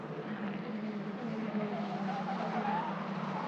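Tatuus T421 Formula 4 race cars at Mugello circuit, a steady, loud engine drone with a rising whine and tire noise as the cars run close together, continuous throughout.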